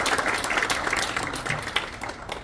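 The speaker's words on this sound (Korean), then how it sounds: "네 분께 박수 보내주십시오." A burst of audience applause at a book launch talk in a church, many hands clapping together in a dense, lively patter that holds steady for a couple of seconds.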